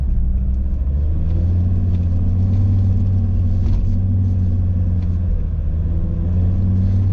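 A 4x4 car with a 2.4 litre, 185 horsepower engine drives along bends and up a hill, its steady low rumble filling the cabin throughout without a break.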